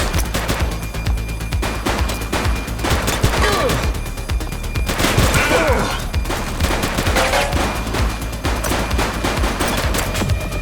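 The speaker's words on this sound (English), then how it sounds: "Shots fired!" Rapid gunfire in the police shooter game Precinct, dense bursts of automatic shots and sharp single cracks throughout, loud and close, with brief game voices mixed in.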